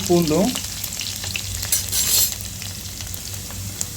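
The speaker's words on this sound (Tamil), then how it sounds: "சேர்த்துட்டு அதை நல்லா கிளறி கிண்டி விடுங்க. நல்லா பொரியட்டும்." Crushed garlic sizzles in hot oil for a sardine fish curry, a steady close fry with the clatter and scrape of a spoon stirring through the pan.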